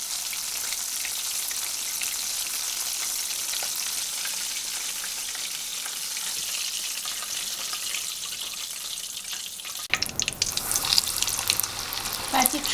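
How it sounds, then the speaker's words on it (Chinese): Japanese karaage chicken deep-frying in oil over medium heat, a dense continuous close sizzle that turns rougher and crackling near the end as pieces are moved. "用中火炸到上色，上色以后再翻面"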